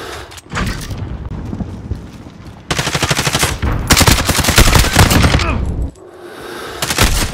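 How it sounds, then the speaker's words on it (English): Gunfire and explosions from a precision airstrike in a video game: loud, rapid machine-gun bursts mixed with heavy booms, dense and continuous, with a brief lull near the end before firing resumes. "Precision airstrike, ready."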